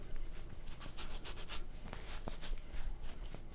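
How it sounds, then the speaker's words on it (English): Styling balm is rubbed into a short beard and mustache, giving a close, continuous soft rubbing and brushing of hair under the fingers, fairly quiet and without speech. "Applying that mostly to the outside, rubbing it in a little bit"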